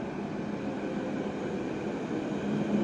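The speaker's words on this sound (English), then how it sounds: "It's coming right now. I love rush hour traffic. This train looks empty." An empty out-of-service train pulling into a station platform at rush hour, a steady, loud rumbling roar with a faint tonal whine that swells slightly at the end, with no voices.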